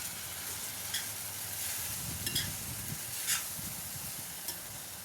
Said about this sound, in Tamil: அந்த ஜவ்வரிசி எடுத்து இப்போ போட்டுக்கலாம். நல்லா இதை மிக்ஸ் பண்ணிப்போம்.